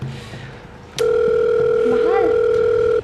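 A telephone call rings unanswered, a steady two-tone ringback starting about a second in and holding loud and continuous, with faint background sound before it.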